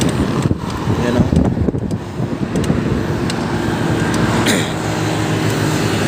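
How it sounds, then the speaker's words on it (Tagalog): Strong seaside wind roars steadily into the microphone during a ride, a constant low rumble with gusty buffeting and faint traffic-like noise underneath. "ang lakas ng hangin dito. Dagat kasi yan dito."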